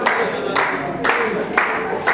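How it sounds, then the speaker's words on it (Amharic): Wedding guests at an apostolic wedding clap for the couple in rhythmic bursts of applause, roughly every half second, fairly loud and close, with crowd noise and a voice mixed in. "አጨብጭቡላቸው።"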